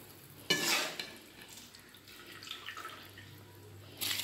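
A spoon stirs egg biryani rice in a pot, with a brief scrape at the start and a faint bubbling simmer underneath, then another stirring scrape at the end. Close and quiet, with no talk.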